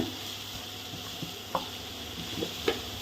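Beans and carrots sizzle steadily in a pan while being stirred for momo filling, with a few soft scrapes and taps of the spoon against the pan over the continuous frying hiss.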